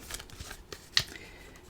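A deck of cards is shuffled by hand in a few soft, quick riffles and taps, close and quiet, with one sharper snap.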